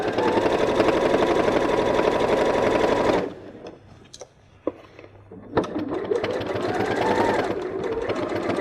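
A sewing machine runs in fast, steady bursts while stitching the seam of a simple knot strap bag, stopping briefly midway with a few faint clicks before starting again loud and close.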